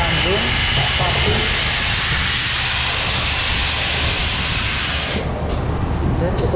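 At Surabaya Gubeng station, a locomotive couples to a rake of train carriages amid a loud, continuous broad hiss of steam or air, with low rumbling underneath, cutting off sharply near the end before a brief return.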